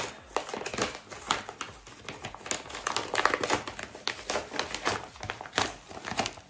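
A packaged ELLE Korea magazine being unwrapped by hand: close, irregular bursts of crinkling and rustling plastic wrap with brief crackles and taps, continuous throughout.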